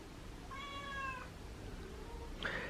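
A house cat meows once, a clear, drawn-out call heard at moderate distance in a quiet room, with a brief second sound near the end and no talking.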